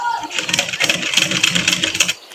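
A sewing machine runs a line of stitching back over an existing seam in a beginner stitching lesson, giving a steady, close, rhythmic mechanical whir for about two seconds.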